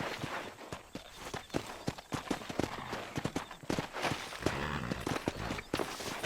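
Horse hooves clip-clop steadily in Red Dead Redemption, a dense run of close, sharp hoofbeats with a snort or whinny, over a low game background.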